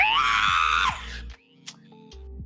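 A human voice imitates the deafening screech of a giant raven monster, a shrill, strained screech lasting about a second, followed by quieter vocal fragments.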